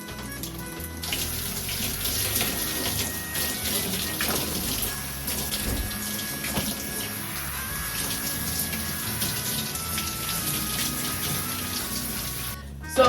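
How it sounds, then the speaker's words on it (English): Warm water runs steadily from a tap while hair in knotless box braids is rinsed, a constant close splashing rush that lasts throughout. "So for rinsing and shampooing, I do use warm water, warm to hot water."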